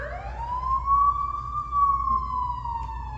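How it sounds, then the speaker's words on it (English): A police car siren wails on Geary Street, a single loud, steady tone that rises and slowly falls, heard on its own over a low engine rumble. "Policeman hit his siren, hit his wailer, pulled me over."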